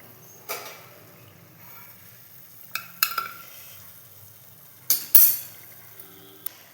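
Imarti frying in hot oil, a soft steady sizzle with occasional metallic clinks and scrapes of a slotted spoon, fairly quiet and close, no talking.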